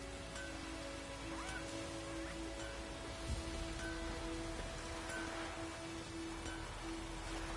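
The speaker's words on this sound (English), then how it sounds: "Let it rain." Soft, continuous patter of rain in the video game The Witcher 3 over a low steady hum and faint tonal game sounds, even and unbroken, with no voices.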